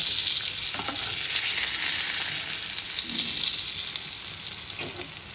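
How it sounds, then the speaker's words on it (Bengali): Pieces of pointed gourd fry in hot oil with a loud, continuous crackling sizzle that stays dense and even from start to finish. "এগুলোকে খুব ভালো করে ভেজে নিতে হবে। তো আমার এখানে পটলগুলো ভাজা হয়ে গেছে"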